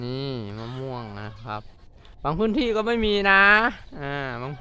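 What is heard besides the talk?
No everyday noises stand out.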